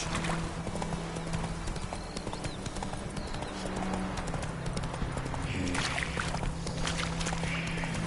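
Roach, the horse in The Witcher 3: Wild Hunt, moves in a steady, close clip-clop of hooves over a busy ambient game soundscape, with the rhythm continuing throughout.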